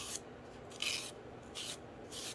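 A foam brush is dragged across paper in four short, soft scraping strokes, each followed by a brief pause, quiet and close.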